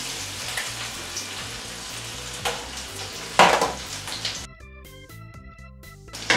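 Liver with sweet cream cooking in a pan, a steady close sizzle and bubbling that runs throughout, with a few sharper stirring clatters and a brief burst of musical tones near the end.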